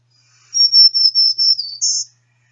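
A warbler's primary song: a series of about six high, thin buzzy phrases running quickly together and ending on a slightly higher, louder note, close and alone against silence.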